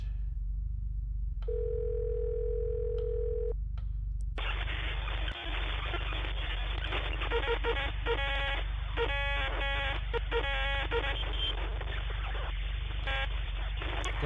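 An electronic telephone in the horror video game Fatal Midnight rings, a steady synthetic tone followed by a harsh, buzzing ring pattern that pulses insistently over a low background hum.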